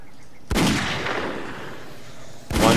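Gunfire in the zombie survival game 7 Days to Die: two loud, sharp shots, the first ringing out with a long decaying tail, the second arriving near the end.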